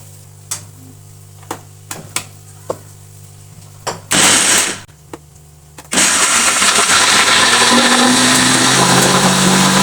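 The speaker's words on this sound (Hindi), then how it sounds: "जो हमने फ्राई किए थे इसको हम ग्राइंड कर लेते हैं" An electric grinder whirs steadily on fried almonds for halwa, kicking in with a short burst, pausing, then running loud and continuous after a few faint clicks and taps.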